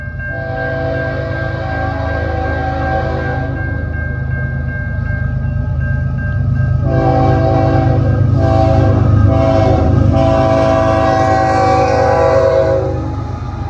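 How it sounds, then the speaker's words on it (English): A freight train hauling 70 cars behind the single locomotive 2849 rumbles loudly past on the CPKC Galt Subdivision, its horn blaring in long, sustained blasts over the steady roll of the wagons. "CNM382 hauls a 70-car train towards Copetown West with 2849 solo and 346 axles."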